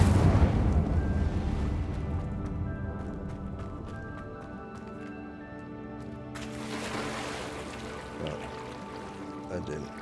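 Incendio fire spell cast in Hogwarts Legacy, a loud rushing burst of flame that roars and then decays over several seconds, with a second flare of crackling fire later, under game music tones.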